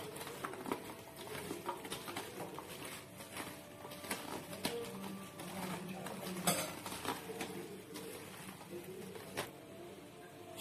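Paneer pieces mixed with marinade in a bowl, a continuous soft, wet patter of squishing and shuffling with occasional light clinks of the utensil against the bowl, close and fairly quiet.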